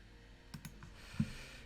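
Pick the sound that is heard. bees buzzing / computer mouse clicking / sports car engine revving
computer mouse clicking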